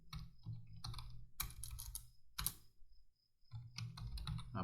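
Typing on a computer keyboard: bursts of quick, close keystrokes in an uneven rhythm, with a short pause near the middle before the tapping resumes.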